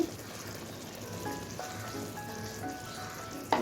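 Garam masala and salt stirred into a sizzling pan for egg bhuna, giving a soft steady fry with light scraping, then a sharper clatter right at the end.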